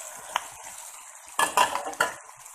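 Kabocha squash cooking in a pot with onion and potato, with a soft frying hiss under a few sharp utensil clinks and stirring scrapes against the pan; no voices.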